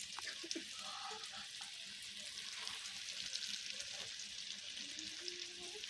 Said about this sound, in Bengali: একে একে আমি ভেজে নিচ্ছি